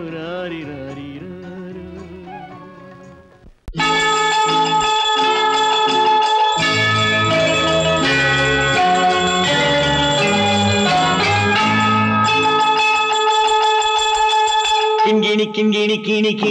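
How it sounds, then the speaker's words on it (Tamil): Bright church-bell-like chimes ring throughout an old Tamil film song, loud and sustained over layered instrumental music, with no singing. "கிண்கிணி கிண்கிணி கிணி கிணி கிணி என வரும் மாதா கோயில் மணியோசை"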